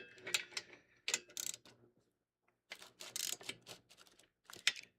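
A ratchet wrench tightens bolts on a 1982 Corvette under restoration, giving several close bursts of quick clicking separated by a short pause.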